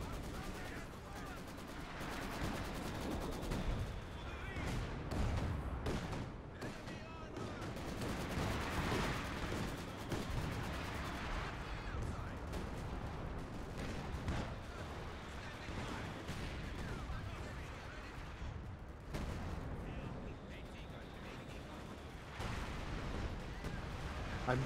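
Anti-tank guns and other gunfire crackle almost nonstop in a war video game battle, a dense, loud barrage of shots and blasts with voices talking over it.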